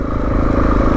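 A Suzuki DRZ400E dirt bike engine chugging at low revs while greenlaning, a loud, close, steady thumping idle with slight mechanical clatter, no speech over it.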